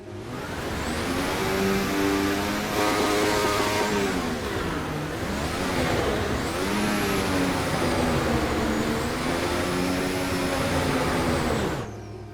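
Simulated 2026 Formula One car engine in Assetto Corsa, heard in the garage: a loud, steady whine with rising and falling revs over about twelve seconds, no talk.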